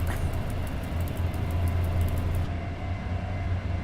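A train in the SimRail simulator rumbles steadily with a low, constant rolling drone and faint rhythmic clatter, the high end cutting out partway through; no talking.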